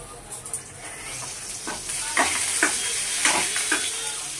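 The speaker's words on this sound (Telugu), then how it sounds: "ఇవి పోపుల కోసం ఎండుమిర్చి చేస్తున్నాను" Dry red chillies sizzle and crackle in hot oil for a tempering while cooking pudina pachadi, with short bursts of frying and stirring clatter up close and no voice over them.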